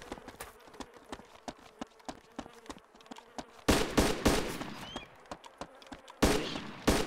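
Video game gunfire in the Epoch zombies mod, a fast string of crisp, fairly faint shots clicking in steady rhythm, broken by two louder, denser bursts of firing.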